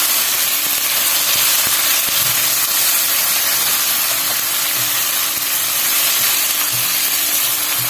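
Ginger, tomatoes, green chillies and chopped onion frying in a pan for a breakfast egg salan, a continuous close bright sizzle and hiss with scattered pops and crackles, steady throughout and without talk.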